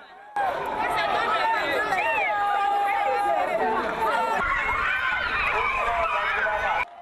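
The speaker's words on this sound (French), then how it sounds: "Les premiers noms sont cités dans la foule, c'est l'agitation." Students crowd together as exam results are announced, loud, agitated and continuous, with overlapping shouts, high excited voices and screams.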